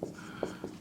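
Writing on a board during a physics lecture on current electricity gives three short, soft taps and scrapes over a brief, quiet room tone.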